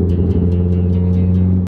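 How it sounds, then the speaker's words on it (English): A rebuilt, previously wrecked Jaguar F-Type SVR idles close by with a deep steady rumble, broken by a regular series of sharp misfire pops and crackles. "I don't know why I'm happy that the car's misfiring"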